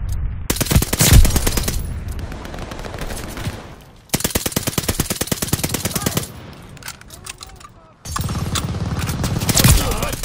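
Strafe-run gunfire in Call of Duty: Vanguard sounds as loud bursts of rapid machine-gun fire, three long volleys separated by brief quieter gaps, close and dominant.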